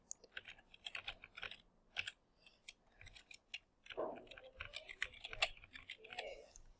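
Keystrokes on a computer keyboard while typing a calendar name, a quick run of close, crisp clicks in uneven bursts with short pauses, faint at first and briefly denser later.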